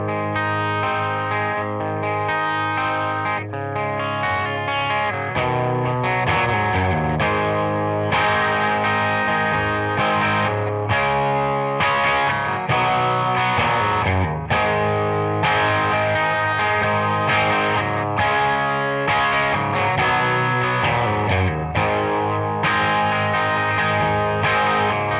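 Overdriven electric guitar through a Boss distortion pedal with gain backed off, moderate gain playing chords and riffs, crunchy but clearer than full saturation, steady and close without speech.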